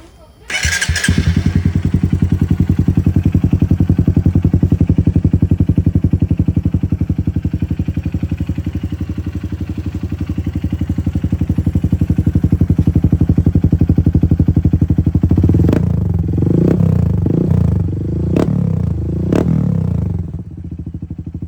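A loud Honda CRF150L motorcycle with an aftermarket T4 exhaust pipe idles and revs with a deep, throaty exhaust rumble, then ends in sharp blipping revs; a voice speaks faintly beneath.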